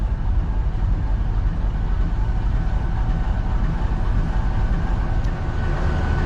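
A Green Line passenger train runs from Margalla to Lahore behind its attached locomotive, producing a loud, unbroken rumble and rolling drone that holds steady throughout.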